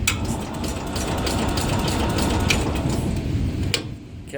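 A 1967 Cub Cadet 102 garden tractor engine cold-starting on partial choke, a steady close mechanical clatter and churning rumble running for several seconds before cutting off near the end.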